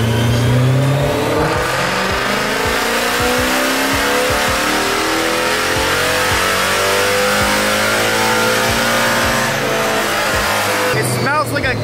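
Loud, close revving from a Mercedes C63 AMG engine on a dyno with a pops-and-bangs tune, one sustained pull rising in pitch, crackles and sharp pops near the start, and voices faintly under the roar.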